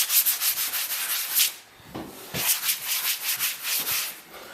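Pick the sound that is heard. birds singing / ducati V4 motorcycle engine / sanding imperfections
sanding imperfections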